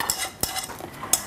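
A spoon stirs a milk-and-egg custard mixture in a saucepan, scraping and clinking steadily as it is kept moving until it thickens. The strokes are close and continuous, with no talking.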